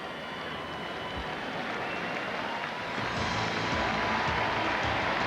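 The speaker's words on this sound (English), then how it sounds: "Well-deserved round of applause." A baseball crowd at Safeco Field during a 2000 American League Championship Series game between the Yankees and Mariners applauds as an injured player leaves, a broad, distant roar of clapping that swells louder partway through.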